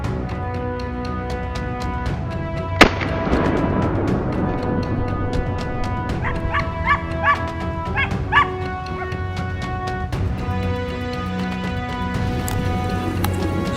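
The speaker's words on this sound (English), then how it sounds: "The sound of hunting dogs echoed from the other side of the mountain slope" Hunting dogs bark and yip repeatedly from across a mountain slope during a wild boar hunt, the barks distant and echoing over steady background noise, with a sharp crack partway through.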